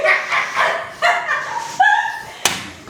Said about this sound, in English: Is that a dog?